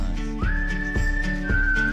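Clear melodic whistling carries a sustained tune in a song played on radio, loud and upfront over steady backing music, no talk.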